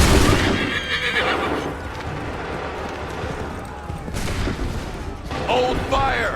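A musket volley crackles on command in Assassin's Creed III, a burst of gunfire mixed with horses neighing and hooves clattering, loud and close, with voices shouting over the battle.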